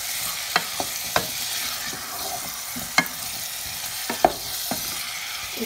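Halved tomatoes sizzle in a hot pan under a constant hiss, with a spatula clicking and scraping at irregular intervals nearby.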